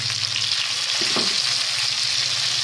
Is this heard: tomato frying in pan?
yes